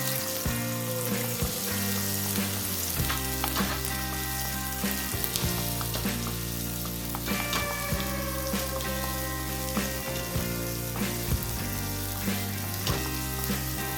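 Onions fry in olive oil in a pan, a steady close sizzle with crackling pops running continuously under background music.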